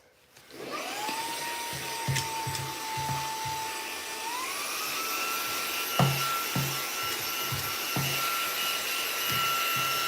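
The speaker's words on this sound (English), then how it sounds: "Just excuse my vacuum cleaner." A vacuum cleaner starts up and whines steadily, its pitch rising partway through, with intermittent knocks and bumps as it moves over surfaces nearby.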